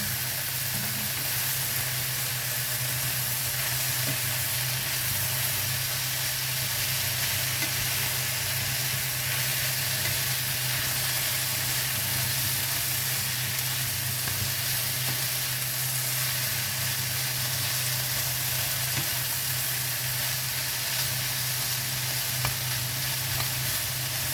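Bihon noodles fry with mushroom and prawn in a pan, giving a steady, close sizzling hiss with soft stirring sounds running the whole time and no talking.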